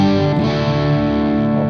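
Electric guitar played through an amplifier on its crunch channel, with a Radial Twin City Bones in the signal chain, giving a sustained, mildly distorted chord that rings steadily and loud with no voices over it.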